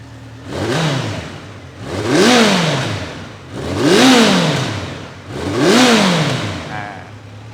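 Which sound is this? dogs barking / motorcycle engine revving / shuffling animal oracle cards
motorcycle engine revving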